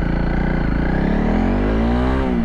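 A Honda CRF 300 Rally off-road motorcycle revs in first gear. Its single-cylinder engine rumbles loud and close, and the pitch climbs steadily before easing off at the end.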